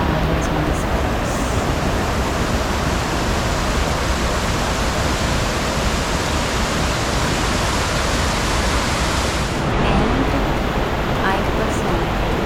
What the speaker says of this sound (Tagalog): Lanzones Falls.